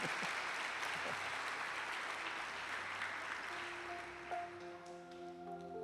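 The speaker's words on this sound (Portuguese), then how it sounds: "Vamos dar um aplauso ao Senhor Jesus pela vida dele aí" A church congregation breaks into warm, dense applause that keeps going, then thins slightly toward the end as tones from an instrument rise beneath it.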